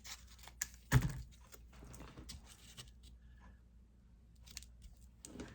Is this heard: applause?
no